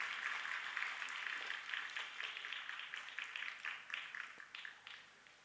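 An audience at a Republic Day celebration at a school for the blind in Bhavnagar applauds with steady, dense clapping that sounds distant and faint, then thins and tapers off toward the end.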